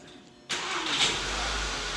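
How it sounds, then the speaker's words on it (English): A VW CC engine cranks and catches after a remote start from the factory key fob. A short crank comes after half a second of quiet, then the engine settles into a steady, close idle. "If I hit the key fob lock button 3 times, 2, 3, the vehicle shall start up."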